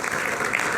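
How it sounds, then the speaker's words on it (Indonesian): Studio audience applauding on an Indonesian live talk show, a steady burst of clapping that fills the short moment at close range. "Kita berikan tepuk tangan dulu."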